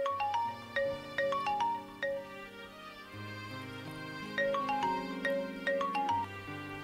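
A phone ringtone plays a melodic, repeating tune, loud and clear. There is no talk over it. It sounds while a call is placed in a Punjabi short film.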